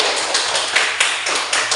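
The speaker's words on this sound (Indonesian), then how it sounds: "Kasih tepuk tangan untuk kelompok yang kedua." Classroom applause for the second group after its presentation at an Indonesian teacher training session: a dense patter of many hands clapping close by, continuous and fairly loud.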